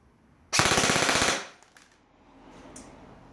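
An ARES CCP airsoft AEG fires a single loud, fast burst of about one second at 16.2 rounds per second, close by, followed by a quiet mechanical whir.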